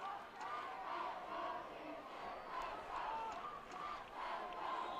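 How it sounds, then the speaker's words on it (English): Riverside fans at the 2019 CCCAA football championship against San Mateo roar in a steady, swelling crowd cheer that holds loud and continuous throughout, with no single voice standing out. "The Riverside fans starting to get into it"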